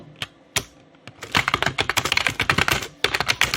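Close, loud typing on a computer keyboard: a few isolated key presses, then a rapid run of clicking keystrokes, a brief pause and more quick typing, with no talk.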